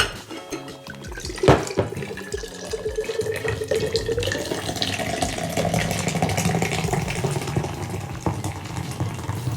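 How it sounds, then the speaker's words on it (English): Beer pours from a can into a glass in a steady, gurgling stream that lasts several seconds, close and clear, starting with a sharp opening hiss. "when you pour a can of beer you actually want to get rid of the gas"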